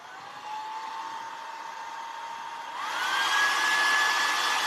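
A handheld hair dryer blows steadily to dry ink on a vintage farmhouse Christmas tree craft, its whine rising in pitch and growing louder partway through; no talking.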